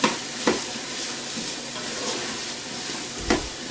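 A spoon scrapes and stirs through tomato soup in a pressure cooker, with a few sharp knocks against the pot over a soft, steady sizzle and no talking.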